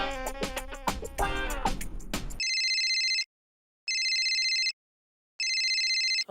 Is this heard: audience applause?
no